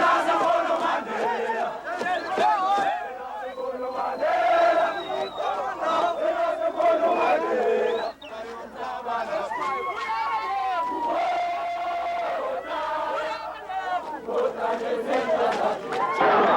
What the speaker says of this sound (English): tens of thousands of supporters of the African National Congress, legal for only 9 days, welcomed their leader